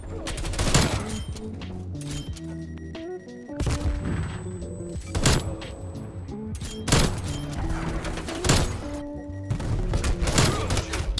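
Rapid bursts of gunfire from a first-person shooter game, played with high sensitivity for flick aiming, cracking out in repeated volleys of loud, sharp shots with short pauses between them.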